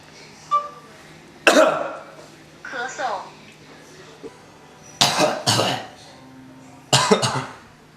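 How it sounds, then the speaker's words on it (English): One person coughs several times: short harsh bursts spread across the clip, some doubled, close to the mic, with a throat-clearing-like sound in between. "I am going to need you to cough."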